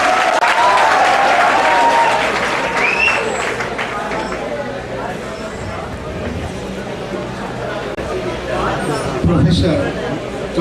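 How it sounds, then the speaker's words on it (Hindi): Audience applauding at a college fest stage event, a dense steady wash of clapping from a large crowd, with murmured voices and whoops mixed through it. "Audience, please ताली तो बजा दो यार."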